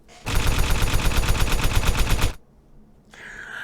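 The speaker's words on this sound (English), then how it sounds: "It sprays like Tommy gun fire down, missing wildly." Rapid tommy gun fire rattles in a long, dense burst for about two seconds, loud and close, then cuts off to quiet with a faint hiss after.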